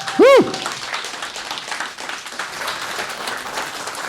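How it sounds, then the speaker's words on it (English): At a demoparty talk, the audience gives the speaker a round of applause, a sharp whoop at the start followed by a sustained wash of clapping from the crowd. "Give him a big round of applause."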